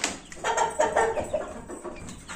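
A rooster clucks repeatedly at close range, short throaty calls in an uneven rhythm with a little rustling between them.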